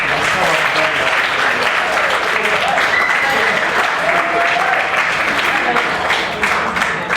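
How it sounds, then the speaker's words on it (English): A room full of people gives a sustained round of applause for an apprentice chef at a cooking workshop, dense steady clapping filling the whole stretch with a faint murmur of voices beneath. "Okay, deserves a round of applause for that, guy."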